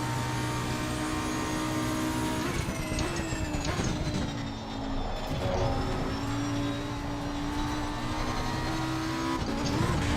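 A MAN truck engine in a racing video game drones steadily and loudly throughout, its pitch rising and dipping with shifts in speed, with no talking.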